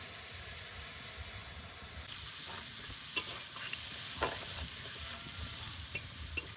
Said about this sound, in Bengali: আদা রসুন পেঁয়াজ একটু কষিয়ে নিয়েছি